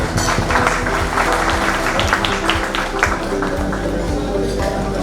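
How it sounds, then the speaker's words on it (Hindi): Applause at a lamp-lighting ceremony opening a diagnostic lab launch at a hotel, a continuous crowd clapping mixed with sustained music or tonal sound beneath, steady and fairly loud. "सो प्लीज जोरदार तालियों से हम स्वागत करते हैं।"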